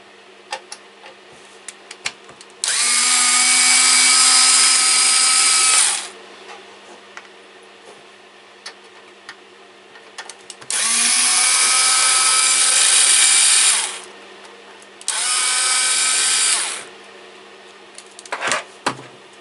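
Power screwdriver backing screws out of the case of a Hulk APS 3005D bench power supply, three separate sustained whirring bursts of a few seconds each, loud and close, with quiet pauses between them.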